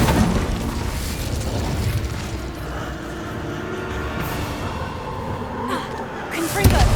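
In Hogwarts Legacy, the Incendio fire spell erupts as a dense roaring whoosh of flame with low rumbling booms that hold steady throughout and end in a sharper burst.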